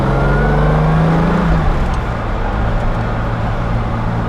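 Modified 1968 Jaguar XKE Series 1.5 roadster with a four-speed gearbox pulls hard through the gears, a steady loud engine drone rising in pitch and dropping at a shift, heard up close with no talking.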